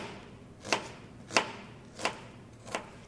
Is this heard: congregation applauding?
no